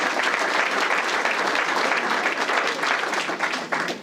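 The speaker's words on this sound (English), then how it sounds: "So you can clap for that." Audience applause fills a building at a community police area command meeting, a dense, steady crowd clapping that holds loud and even throughout.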